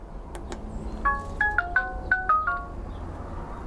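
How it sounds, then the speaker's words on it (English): A Nooie WiFi video doorbell rings with a short melodic chime of several clear electronic tones in a rising and falling sequence, close and moderately loud over a faint room hiss. "There it is. Doorbell rang."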